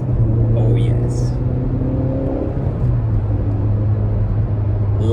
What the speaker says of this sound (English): Loves to spin, this engine.